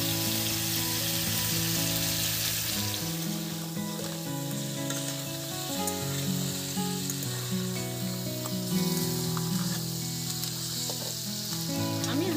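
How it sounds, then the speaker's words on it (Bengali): Crab pieces fry in a pan with a steady, close sizzle and crackle, with occasional stirring scrapes through the whole stretch. "আমি হালকা করে কাঁকড়াটা ভেজে নিয়েছি, এই দেখুন।"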